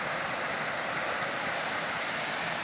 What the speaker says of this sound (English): I guess that's the falls of the creek